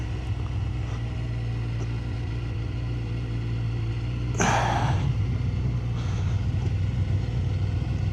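A Suzuki GSX-R 1000 motorcycle engine idles fast with the choke left on, a steady close, loud rumble throughout, with a brief hiss or rush partway through.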